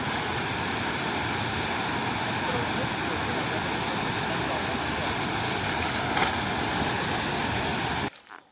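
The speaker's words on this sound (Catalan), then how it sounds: "Hem vingut a una cascada i s'entra per aquí a la cascada." A waterfall in Thailand roars as a steady, dense broadband rush of falling water, loud and close throughout, with no break until it cuts off near the end.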